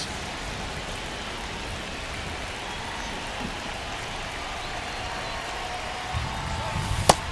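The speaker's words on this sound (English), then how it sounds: "This rain is not letting up." Steady, even hiss of rain falls in MLB The Show 25 baseball game during a ball game, constant throughout, with a sharp knock near the end.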